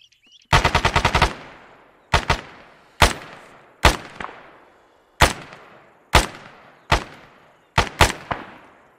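Gunfire in the Arma 3 military game: a rapid automatic burst opens, followed by a string of single sharp shots at roughly one-second intervals, loud and close with short echoing tails.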